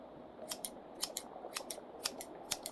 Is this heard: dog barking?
no